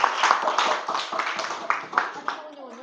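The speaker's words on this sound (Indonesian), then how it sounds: "Berikan aplaus dong buat kelompok 1 dan 2" Classroom applause for two student groups, a spread of quick hand claps carrying on for about three seconds, moderately loud and slightly uneven, with a voice speaking over the clapping.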